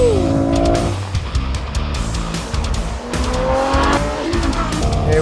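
A Ferrari F12 Berlinetta slides in oversteer around the Fiorano test track, its tyres squealing in long wavering shrieks over the loud, surging roar of the V12 engine as it revs and shifts.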